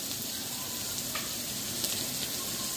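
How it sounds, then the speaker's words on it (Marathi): Onion sizzling and frying in a pan, a steady soft hiss with faint crackles throughout, quiet and close, no talking. "परतायचं म्हणजे कसं माहिती का, कांदा आहे ना लाल लाल झाला पाहिजे"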